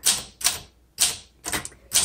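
Typing on a 1961 Olympia SM7 manual typewriter: five crisp bursts of clacking keystrokes in quick uneven succession, close and clear with no talk.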